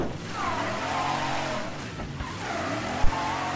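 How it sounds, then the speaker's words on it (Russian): Tires squeal and skid as a car brakes hard in Mafia 3, a period car from the game's era, with a steady engine drone throughout and a brief thump near the end. "Я реально тормозил как мог."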